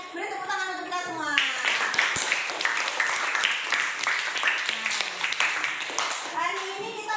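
A classroom of children applauds together, a dense, steady clapping lasting several seconds, with young voices talking before and after it.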